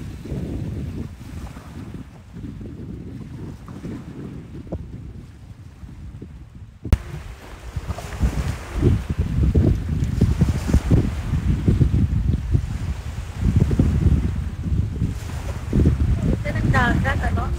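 Strong wind buffeting the microphone at a seaside beach resort in San Antonio, Northern Samar, a continuous low roar with faint surf behind it and a voice talking throughout.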